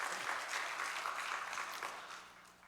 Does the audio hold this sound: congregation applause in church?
yes